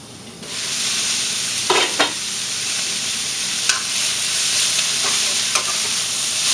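Mushrooms and vegetables with soy sauce sweat down in a hot pan, a steady close sizzle running throughout with a few sharp scrapes and stirs of a utensil against the pan.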